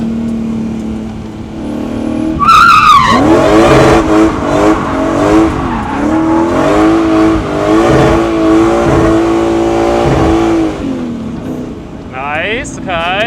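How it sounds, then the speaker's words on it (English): Supercharged V8 drift truck sliding through a corner on a big road course, the engine revving hard and warbling while tires squeal and skid, with a voice talking over it. "I'm drifting, the first lap."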